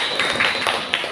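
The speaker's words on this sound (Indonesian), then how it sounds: "tepuk tangan untuk Irma" A small school workshop audience gives brief, scattered applause for a participant, with a few quick light claps that are moderately loud and blurred together against room noise.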